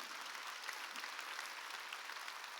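Applause from a church congregation during a Wednesday worship service, a steady dense wash of many hands clapping at moderate, distant-sounding level without a break.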